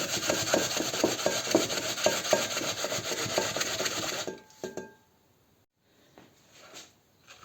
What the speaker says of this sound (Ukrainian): Спочатку натираємо е, цибулю